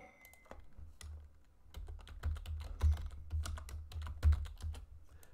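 Computer keyboard typing of department names into an Excel VBA search form: a close, steady patter of irregular key clicks with a few harder taps, without talk.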